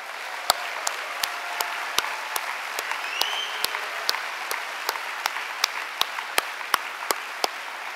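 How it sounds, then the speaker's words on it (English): Sparse, scattered hand claps from a small group at a conference closing session, irregular and fairly crisp, with no talking over them. "Please join me in giving the host a big applause for this beautiful memory."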